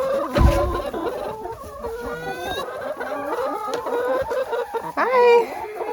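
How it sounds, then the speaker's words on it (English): Hens cluck and chatter nearby in a cool spot below a greenhouse, with overlapping calls, a short squawk, and a louder burst of clucking near the end. "But down where the chickens are, I'll go down and show you."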